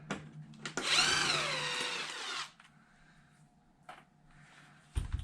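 A power tool whirs as it backs screws out of the body of a Traxxas Maxx v1 RC car: one loud, sustained buzzing run of about two seconds, then quieter clicks and handling.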